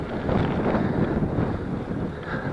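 Wind buffeting the microphone while cycling with a tailwind on a gravel route through desert mountains: a continuous, close, rumbling roar with no voices.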